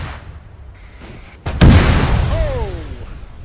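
A rocket from a launcher strikes a UAZ jeep in a military video game set in Takistan: a sharp crack, then a loud, close boom that rolls into a long fading rumble, after faint earlier pops.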